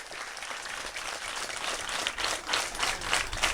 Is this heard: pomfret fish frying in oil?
no